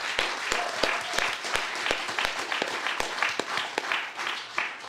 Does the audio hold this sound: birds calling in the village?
no